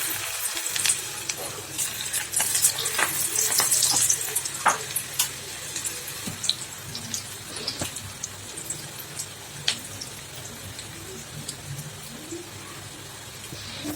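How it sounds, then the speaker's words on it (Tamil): Pakoda fritters frying in hot oil over a medium flame give a steady, close bubbling sizzle, louder and busier early on and then settling, with scattered sharp pops and clinks throughout. "இப்போ வந்து எண்ணெய் காயுது இப்போ வந்து அப்படியே குதித்த மாதிரி விட்டுக்கலாம்"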